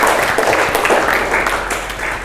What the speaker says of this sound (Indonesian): kasih tepuk tangan dong buat yang bawa tumbler